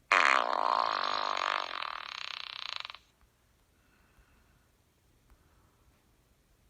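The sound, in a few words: fart sound effect played by Google Assistant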